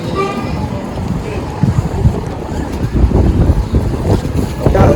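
Heavy wind buffets the microphone with a constant low rumble, and a voice talks underneath the gusts.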